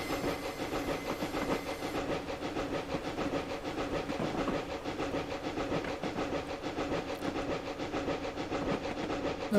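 A DSP&P Mogul steam locomotive in Train Simulator Classic chuffs along at speed, with rapid, evenly repeating exhaust beats over a steady mechanical hum, fairly quiet and without voices.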